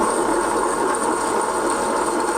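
An Ultra Dura table top wet grinder runs with a loud, steady whirring hum and grinding hiss from up close, unbroken throughout with no talk.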